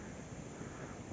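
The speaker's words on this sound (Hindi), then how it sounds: "हवा चल रही है।" Steady wind blows outdoors at an old hillside temple, a broad continuous rush with no voices.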